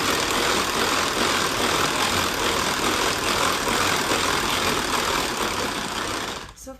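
A continuous whirring motor drones steadily, an electric mixer whipping cream at speed one, then cuts off abruptly at the end.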